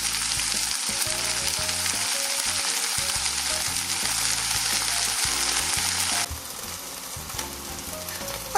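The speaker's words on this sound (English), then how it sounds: "put a little butter in my fry pan and cook this for just a minute or two on each side" Slices of ham fry in butter in a frying pan, a steady, close, loud sizzle that runs without a break and drops slightly in level near the end.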